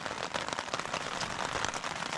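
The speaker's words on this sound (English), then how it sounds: "It's been raining on and off." Rain patters on a tent during a wild camping night on Dartmoor, a soft, dense, irregular drumming of drops heard faintly and continuously with no talk.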